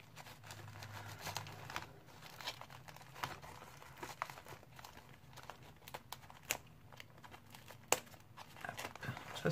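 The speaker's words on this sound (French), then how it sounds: "Le papier cadeau" Gift wrapping paper crinkles and rustles steadily as a parcel of craft supplies is unwrapped, with sharp crackling bursts over a soft background hum.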